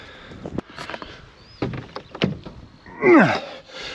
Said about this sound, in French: on n'arrive même pas à ouvrir la porte de ce tracteur